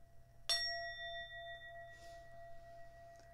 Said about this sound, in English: I'm going to do the sound bell again just one more time